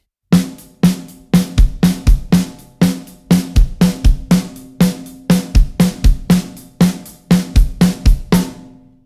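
A driving, up-tempo rock drum groove played solo, with quick kick and snare hits under bright cymbals, ending on a ringing crash.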